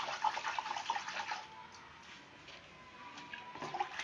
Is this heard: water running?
yes